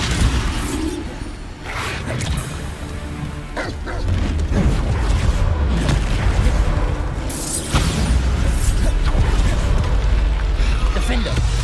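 Explosive spell bursts in a Hogwarts Legacy battle, loud booms and crashes repeating through a busy, continuous clash of magic effects, with a voice shouting between them.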